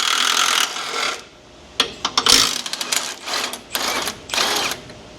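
A wrench works loose broken mount hardware on a Duramax truck frame, with close metallic ratcheting clicks, scraping and clanks in short uneven bursts and no talking.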